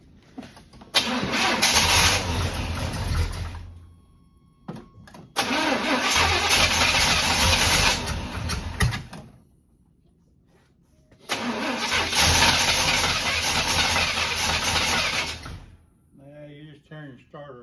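An old abandoned barn-find square body Chevy truck engine cranks in three long, loud bursts with pauses between, each attempt churning for several seconds, and a voice speaks at the very end.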